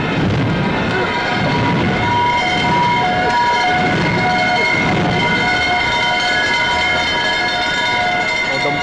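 A fire engine siren wails loudly and steadily for several seconds over a heavy low rumble of traffic or engine noise, with no clear voices.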